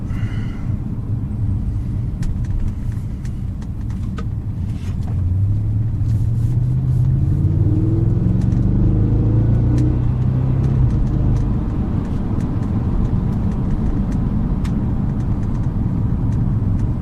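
An Audi RS5 with a 450-horsepower V8 revs and pulls away from inside the cabin in Norway, a steady loud engine rumble rising into a climbing acceleration tone midway and holding strong to the end, with no talking.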